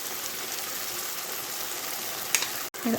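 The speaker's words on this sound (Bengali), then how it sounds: "দুই তিন মিনিট একটু কষাই নেব টক দইটা লাগে" Beaten sour yogurt sautéed with fish curry masala for a pomfret curry, a steady close sizzle with soft stirring, then a brief clatter and a short cut near the end.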